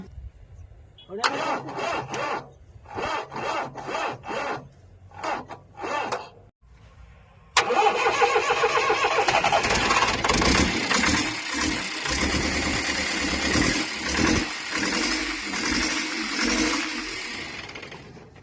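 Repeated cranking bursts as a vehicle's starter is turned with the key, the engine then catching and settling into a loud, steady rumbling idle that runs to the end.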